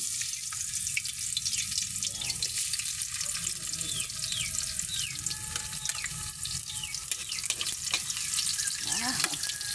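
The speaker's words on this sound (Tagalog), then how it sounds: "igigisa niya na muna pala yung una, bawang" Garlic sautéing in a pan, a steady sizzle under running water and clinking sounds, with faint voices in the background.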